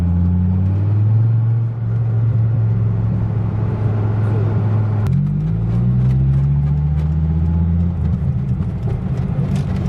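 A Dodge Viper engine rumbles loud and close, pulling hard with a rising pitch, briefly dropping as it shifts, then climbing again under sustained acceleration.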